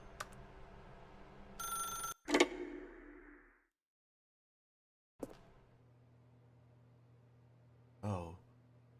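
Telephone in The Stanley Parable video game rings in two short bursts of repeated bell tones, with clicks and a brief voice between them, then a quieter thud and a final short ring against a low hum.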